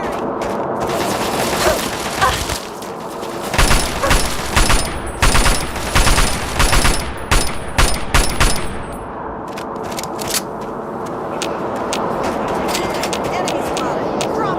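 Rapid automatic gunfire bursts from the Fallout 3 video game, loud and near, repeating in dense volleys before thinning out, with game voices calling out between shots.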